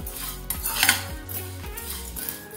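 Black gram lentils, chana dal and coriander seeds dry-roasted in a pan, with rhythmic scraping strokes of a spoon against metal repeating about every half second, close and moderately loud, with a brief rattle of seeds.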